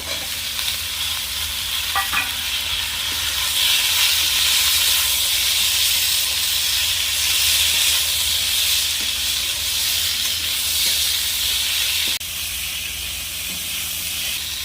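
Cut potatoes drop into a pan of fried onions and oil. A loud, hissing sizzle swells after a few seconds, holds steady, then eases slightly near the end, with no voices.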